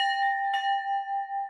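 The new bronze Creetown ferry bell, cast by locals, gives a single clear strike with a bright sustained ring that hums steadily and fades slowly, heard alone without talk.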